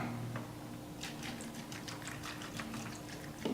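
Strong Kangen water is poured over cherry tomatoes in a bowl, a soft splashing trickle with light gurgling spatters over a faint steady hum, fairly quiet and close.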